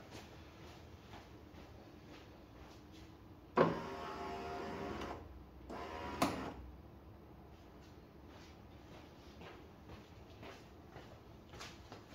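A BMW E39 rear door window regulator motor whirs in two short bursts, the first about two seconds and the second briefer, above a faint steady background hum, with no talking.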